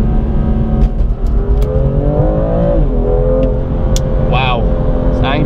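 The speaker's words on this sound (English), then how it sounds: "I'll put my foot down here. Now I go. Third, downshift to second." A BMW M2 Competition accelerates hard out of a corner, its engine note climbing, dropping briefly through a downshift from third to second, then rising again, loud and close from inside the car.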